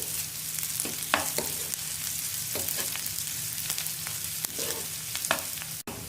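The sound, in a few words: onions with ginger garlic paste frying in pan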